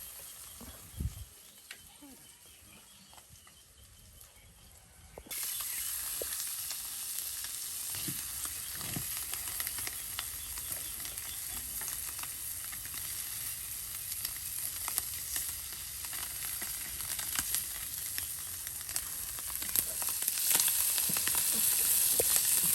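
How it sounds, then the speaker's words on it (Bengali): Small puti fish fry crispy in hot oil, first a faint crackle, then a loud, continuous close sizzle that swells slightly toward the end. "এই পুঁটি মাছ ভাজা"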